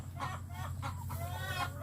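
Laying hens cluck repeatedly in a coop on a Thai egg farm, several soft bursts in quick succession over a steady low hum, faint and distant.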